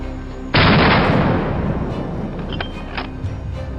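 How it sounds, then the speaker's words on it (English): A single loud, close boom of gunfire during a wild boar hunt in mountain country, followed by a rolling echo that decays over about two seconds, with faint later pops. "From the neighboring mountain, the sound of gunfire echoed nonstop"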